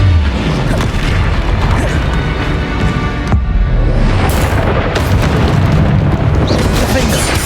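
Confringo blasting spells in Hogwarts Legacy, played on Xbox Series X, set off loud booming explosions amid dense, continuous combat noise, with voices shouting spell names during the fight.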